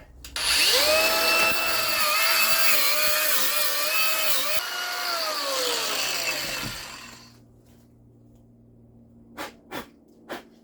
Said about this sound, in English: we're just going to grind this little area right there, just as relief cut